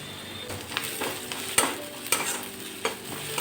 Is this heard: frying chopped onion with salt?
yes